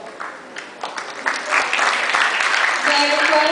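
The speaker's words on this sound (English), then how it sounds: "Let's give a warm round of applause to the graduates" Sustained audience applause at an elementary school graduation ceremony as graduates receive their certificates, a dense crowd of clapping that swells and holds steady, close and fairly loud.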